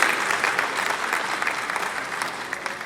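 Steady applause from an audience at a formal National Social Safety Net coordinating event, dense and fairly loud throughout, with no voices over it.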